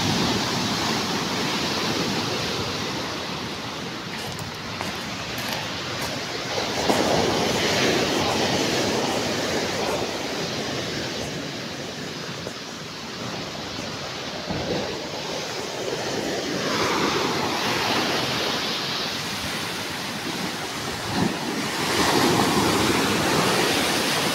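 Big ocean waves break and roll as surf, a loud continuous roar with repeated surges and crashes filling the whole stretch, no talking over it.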